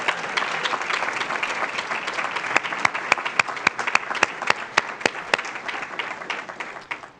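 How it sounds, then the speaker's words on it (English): Audience applause at the grand opening ceremony for the Osvaldo N. Soto Miami-Dade Justice building: a crowd claps warmly and steadily for several seconds, with a few sharp individual claps standing out before it fades. "Please, let's give them a very loud and warm applause."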